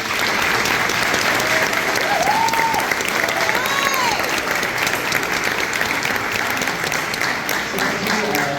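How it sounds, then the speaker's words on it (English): Large audience giving sustained applause for summer orchestra camp students, dense continuous clapping throughout with a few scattered voices and whistles rising above it. "let's actually start just by giving them a huge round of applause for being here"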